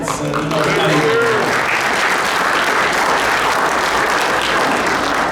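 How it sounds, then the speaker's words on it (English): Audience at an inauguration ceremony in Derby giving a round of applause, dense sustained clapping that fills the whole stretch at steady loudness, with a few voices heard briefly at the start. "give them a nice round of applause"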